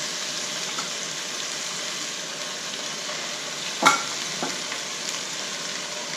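Peppers fry in a cast iron pan with a steady close sizzle, and a couple of sharp clinks of utensils against the pan stand out partway through.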